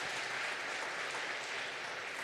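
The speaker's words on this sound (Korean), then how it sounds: "우리 학생들을 위해서 한번 박수 해주시면 감사하겠습니다." A church congregation applauds students at a Sunday service, a steady wash of many hands clapping, moderately distant and sustained throughout.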